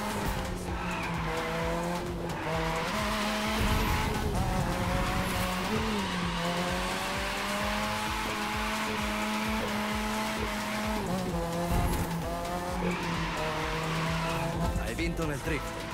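Cars, among them a Lamborghini, a Nissan and a Mazda, drift in the racing video game The Crew 2, with engines rising and falling in pitch and long tire squeals throughout, under excited talk.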